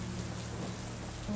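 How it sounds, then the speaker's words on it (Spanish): Rain falls steadily as a sound effect, a short, soft, even wash of patter with nothing else over it. "Empieza a llover."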